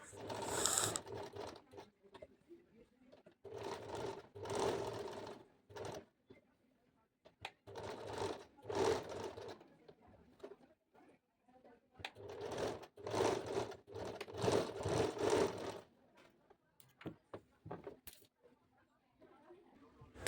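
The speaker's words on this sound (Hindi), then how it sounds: "अब इसके किनारे किनारे फिनिशिंग से हमें सिलाई लगा लेनी है।" Sewing machine stitching along the finished edge of a blouse back neck, running in several short whirring bursts separated by quiet pauses, close and fairly soft.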